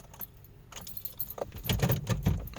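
A bunch of keys jingles close up, then a Hyundai Picanto engine cranks and rumbles to life with a low, uneven churn under the rattling.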